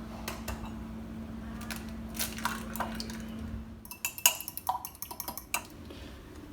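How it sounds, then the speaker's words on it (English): A fork beats an egg inside a mug, giving a quick run of sharp clinks and taps against the mug's side after a few seconds of low steady hum, close by with no talking. "Place the egg in the mug and beat well with a fork."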